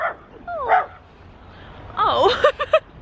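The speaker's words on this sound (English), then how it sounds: "Oh, hello, little dog." A small dog at a motorway service station gives a few short, high yips and barks, loud and close, mixed with a voice talking nearby.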